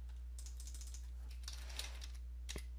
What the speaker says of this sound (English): into Google, you want to go ahead and just type in DirectX